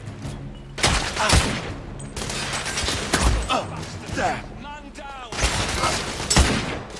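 Gunfire in The Order: 1886 during a firefight at a balcony, with several heavy bursts of shots separated by short gaps and shouting voices between them, loud and close.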